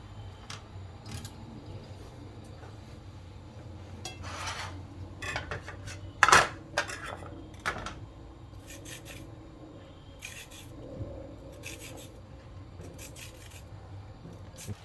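Washed carrots with their ends trimmed being peeled with a peeler, giving scattered short rasping scrapes at close range with brief pauses between strokes, no talking.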